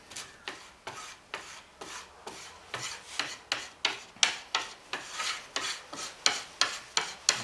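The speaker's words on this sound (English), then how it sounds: "putty knife, not the stiff one, but the flexible one" A flexible flex-tip putty knife spreads and scrapes filler over an interior surface in steady back-and-forth rasping strokes, each one close, crisp and rhythmic, with no talk.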